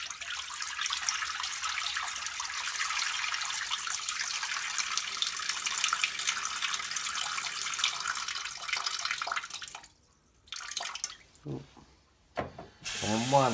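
Water pours and splashes off tomato seeds in a container as a steady, close hiss for about ten seconds. It then breaks into short, stop-start spurts and trickles.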